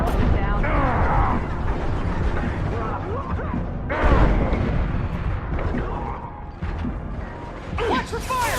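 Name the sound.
gunfire in the video game Mass Effect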